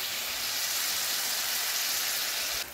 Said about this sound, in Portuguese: Tá fritando.